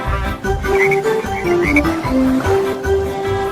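Cartoon-style frog croaks sound within the children's song about speckled frogs on a log, a run of short pitched croaking notes over steady music.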